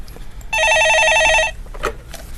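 A telephone rings on a live stock-market call-in show as a caller phones in: one loud, close electronic ring burst of about a second with a steady warbling tone, followed by faint background sound.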